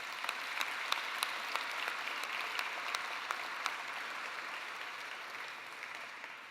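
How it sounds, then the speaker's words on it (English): Applause from a gala audience at a melanoma charity awards evening, a moderate, even spread of many hands clapping with a few crisp nearby claps on top, fading gently toward the end. "Let's give her a round of applause."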